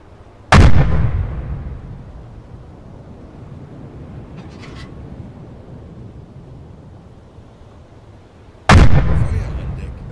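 Two heavy ship gun blasts in a submarine warfare video game, roughly eight seconds apart, each a sharp boom trailing into a long rumbling decay over a steady low background.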